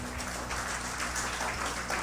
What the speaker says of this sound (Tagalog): Pagpapalakpak tayo, pumalakpak talaga tayo